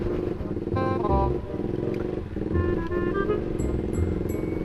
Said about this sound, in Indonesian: Bisa dilihat nih RPM nya naik turun udah ya.